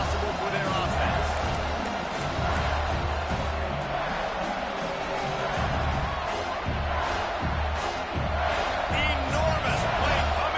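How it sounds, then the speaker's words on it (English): Steady roar of a packed football stadium crowd in a video game, loud and continuous with cheering swells, running under a commentator's voice. "this crowd is bringing down the house"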